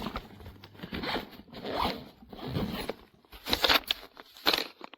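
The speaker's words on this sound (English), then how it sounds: "So when all of this is zipped up" An insulated backpack cooler bag being zipped up in several short, rasping pulls with pauses between, close and clear, ending in two sharper zips.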